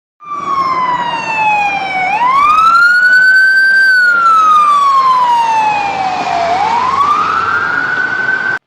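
An emergency vehicle siren, fire engine or ambulance, wails loudly and steadily, its pitch sliding down, sweeping up, then falling again as it passes close by in a Doppler demonstration, with no talk.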